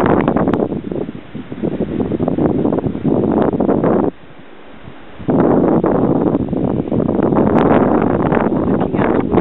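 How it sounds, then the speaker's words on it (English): Wind blows across drifting snow the day after a late-March 2014 storm, roaring and buffeting the microphone loudly, with a brief lull in the middle before the gusts return. "drifting snow, so this is the wind"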